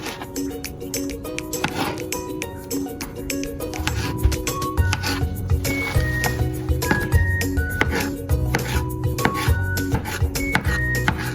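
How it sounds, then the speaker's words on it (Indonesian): A knife chops dragon fruit into small pieces on a board, giving a steady run of close, firm thuds that grows more regular partway through, mixed with light clinks of kitchenware. "Sama buah naganya juga kita potong menjadi potongan kecil-kecil."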